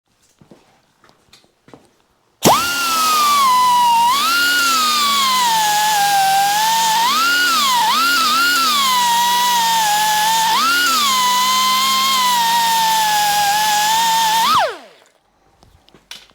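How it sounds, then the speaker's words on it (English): Grinding off a pin on a Yamaha CT-3 motorcycle: a loud, steady, high-pitched power grinder whine runs about twelve seconds with slight pitch dips as it bites into the metal, then winds down and stops. "So we're just going to go ahead and grind this off and pull this pin"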